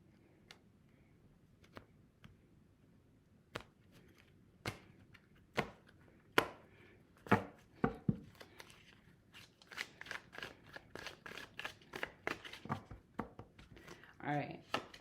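Tarot cards being shuffled in hand, sparse sharp flicks and snaps at first, then quicker clustered riffles and taps, close and fairly quiet, with no talk over them.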